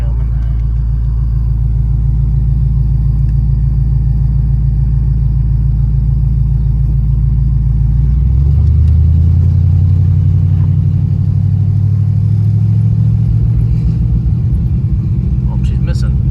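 A 1978 Ford truck's engine runs with a steady low rumble, roughly and unevenly as if misfiring, then the pitch shifts and rises partway through as it revs; someone talks over it now and then.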